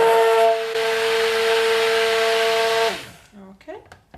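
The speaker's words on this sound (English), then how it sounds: "And now I will give a quick stir" Homemade soap batter of oils given a quick mechanical stir, a steady loud whirring whine that runs for about three seconds and then cuts off, leaving faint clatter.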